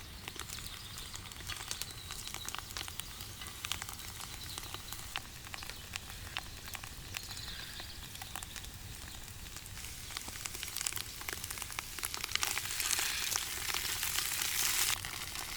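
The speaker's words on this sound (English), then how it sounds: "We give it a good mix, and our fried wild mushrooms are done" Wild mushrooms frying in a pan with crushed garlic, a steady crackling sizzle that runs continuously and grows slightly louder and brighter toward the end, with no voices.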